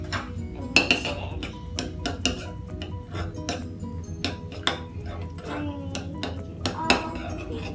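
A pinch of baking soda stirred into crunchy slime in a bowl, with irregular clinks and scrapes of a utensil against the bowl, close and moderately loud, along with faint background voice.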